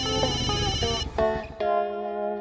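An electronic phone ringtone plays loudly, a tonal melodic tune with repeated notes and brief pauses, no voices.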